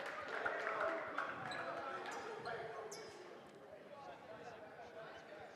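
Basketball bouncing on a gym court floor during a boys' varsity high school game, quick thuds amid crowd noise and sneaker squeaks, with talk running over it throughout.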